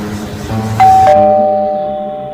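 A two-note ding-dong doorbell chime rings once, bright and close, the second tone fading slowly into quiet.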